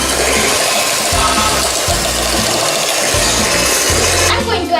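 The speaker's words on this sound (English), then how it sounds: "Now I have to add the chocolate. I am going to whisk it again." Chocolate ice-cream mixture is whisked, most likely with an electric whisk: a loud, continuous close whirring buzz with a rhythmic beating pulse, cutting out just before the end.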